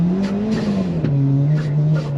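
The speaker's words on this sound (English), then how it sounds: "That was a big one. That was a big burnout." A car does a big tire burnout at a drag strip, a loud, steady engine drone with slight pitch dips, held close and continuous throughout.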